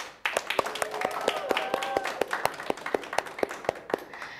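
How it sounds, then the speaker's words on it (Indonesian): Audience applause at an Indonesian talk event, a steady patter of many hands clapping with sharp individual claps standing out, loud and fairly close, with some voices mixed in. "Tepuk tangan dulu yuk."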